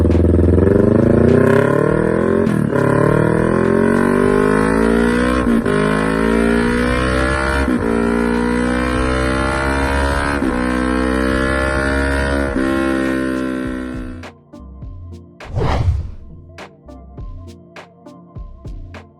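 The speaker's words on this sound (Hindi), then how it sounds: "स्लिप ऑन और फुल सिस्टम एग्जॉस्ट का ऑप्शन मिल जाएगा और इनकी आवाज कुछ ऐसी होती है" A superbike fitted with an Arrow aftermarket exhaust howls loudly under hard acceleration, its pitch climbing and dropping through several gear changes before easing off, followed by one sharp rev blip and a low idle.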